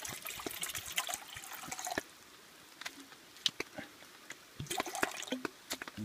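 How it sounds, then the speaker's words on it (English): Water pouring into a titanium camping pot, a quiet trickling splash for about two seconds, then scattered faint drips and small taps, with no talking. "You want to get your water in there."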